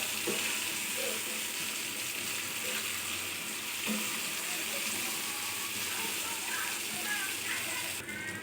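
Chicken pieces with chili powder fry in a pan, a steady broad sizzle with a few soft clinks and stirring scrapes throughout, close and fairly loud.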